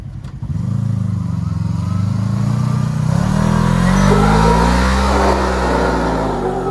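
An off-road vehicle on a Moab slickrock trail spins its tires in place, the engine droning loud and close with a rising rev and rough clatter that builds and holds through the whole stretch.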